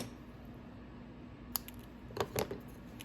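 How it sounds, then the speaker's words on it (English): A tiny scrap is snipped off the edge of a paper craft piece, a couple of quick close cuts clustered near the end after a quiet stretch. "I'm just going to cut off a little tiny piece on the edge here."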